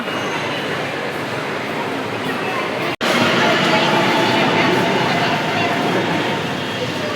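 Constant rumbling roar of a metro train in motion in Ernakulam, heard from inside the carriage, with a brief cut partway through.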